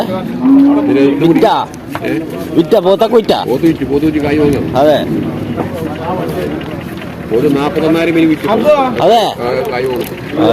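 Buffalo calves moo loudly and repeatedly at close range, long low calls overlapping with people talking nearby.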